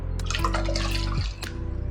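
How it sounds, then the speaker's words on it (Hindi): Water pours into a cooking pot with a short burst of splashing and gurgling, then a brief pause and another quick pour. "इसमें इसी नाप से हम 4 कप पानी डालेंगे"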